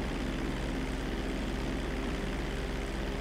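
An airplane flying in the GTA V video game, a steady droning engine hum with propeller-like rumble, continuous and even, with no talking.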